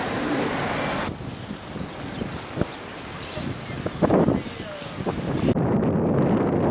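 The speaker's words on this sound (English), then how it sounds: "Man, it's windy here along the coast." Strong coastal wind on the Costa Brava, Spain, buffets the microphone in a steady roar, with brief gusts and rustles cutting through the blustery outdoor noise.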